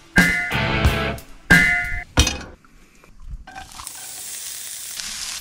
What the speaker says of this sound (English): So the onions and green pepper we're gonna do on the trusty old frying pan.